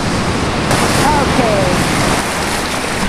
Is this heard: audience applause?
no